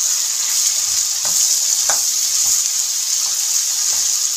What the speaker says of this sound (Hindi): अब हम इसमें डालेंगे बैंगन जो कि हमने चकोर काटे हुए थे, उनको भी हम फ्राई करने के लिए साथ ही डाल देंगे